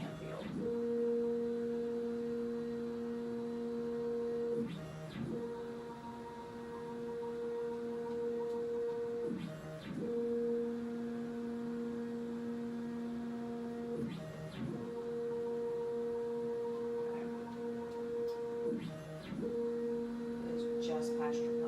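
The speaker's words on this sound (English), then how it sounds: "this is a machine that you would do if you were at a doctor's office to have a dexascan." A DEXA body scan machine in a scanning room gives a loud, steady electrical hum with a tonal drone. Every few seconds there is a brief dip and shift in pitch as the scanning arm steps along.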